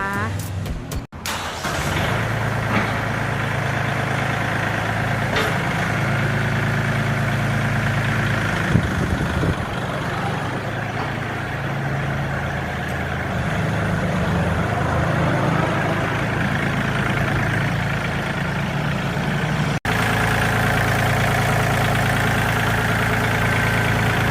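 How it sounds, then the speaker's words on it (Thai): A 39-horsepower used tractor's diesel engine idles steadily at close range, a low rumbling drone that holds even throughout, with someone talking over it at times. "เดี๋ยวเราไปฟังเสียงเครื่องยนต์กันเลยนะคะ"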